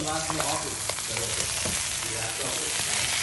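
Shrimp sizzles and crackles steadily in a hot pan while being stirred, a close, continuous fry with scraping movements and no talking.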